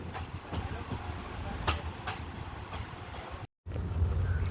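Aboard the diesel Velankanni Express as it pulls out of Karunagappally station, a steady, low rolling rumble carries faint rhythmic wheel clacks, with one brief dropout.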